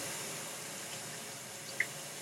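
Warm water runs steadily from a sink tap during handwashing, a soft continuous hiss with one small clink near the end.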